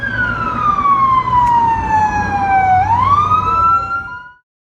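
Police car sirens on Las Vegas Boulevard, one loud wailing tone sweeping slowly down, then rising again, over a low traffic rumble, and cutting off at the end.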